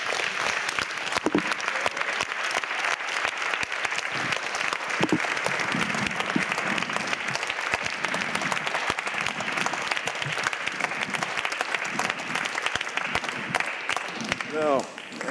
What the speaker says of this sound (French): ces applaudissements, c'est pas à moi qu'ils s'adressent, ils s'adressent à toute l'équipe du forum, alors Kaltenbach, Olivier Leguet.